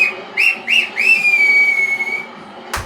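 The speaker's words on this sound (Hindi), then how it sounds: "और अभी आपको सीटी बजाता हुआ भी दिखेगा" A person whistles nearby, a few short rising chirps followed by one long sustained tone that fades out, loud and clear, ending with a brief clatter.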